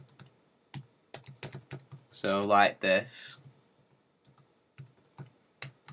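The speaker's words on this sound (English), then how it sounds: "then typing the script or style tag" Code being typed on a computer keyboard, quick irregular clacking keystrokes in bursts, close and clear, with someone speaking briefly in the middle.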